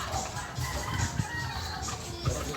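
Sebright bantam chickens cluck softly in a small backyard coop, short scattered clucks over a quiet, hissy background.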